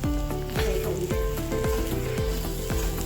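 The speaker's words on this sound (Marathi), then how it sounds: "चांगलं परतून घ्या सारण" Spiced pea stuffing for karanji sizzles and crackles as it is sautéed in a pan, with steady frying hiss broken by repeated scraping strokes of a spoon against the metal.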